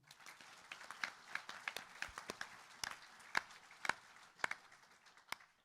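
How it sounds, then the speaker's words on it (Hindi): Sharp, scattered hand claps from an audience at a Hanuman Jayanti fundraising gathering, applauding a pandit; the claps are uneven and fairly sparse rather than a dense roar, with brief rustling between them. "जाने से पहले एक जोरदार तालियां पंडित जी के लिए"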